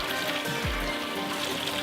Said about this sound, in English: Flush it off in some hot water.